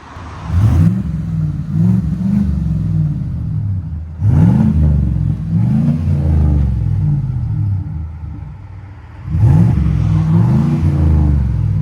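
A Chevy Silverado's Flowmaster exhaust revs up in three deep, rumbling bursts, each swelling and settling back to a low idle between them, close and fairly loud.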